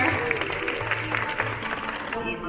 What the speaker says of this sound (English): Give Porter a big round of applause out here.